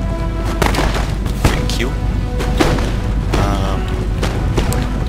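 Troops in Empire: Total War's Persia campaign fire volleys of muskets and cannon in repeated sharp booms and thuds, with a voice speaking briefly over the battle.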